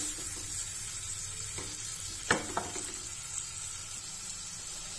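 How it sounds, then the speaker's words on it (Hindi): Chopped tomato frying in a pan gives a soft, steady sizzle, while a spoon stirs it with a few distinct scrapes and clinks, close and quiet with no talking. "टमाटर को डालने के बाद भी इसे अच्छे से चला दें। टमाटर को हम हल्का सा सॉफ्ट होने तक भून लेते हैं।"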